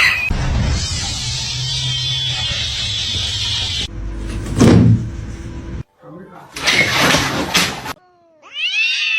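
Domestic cat meowing and yowling in loud bursts indoors, with rustling and door sounds between calls and a person talking over parts of it.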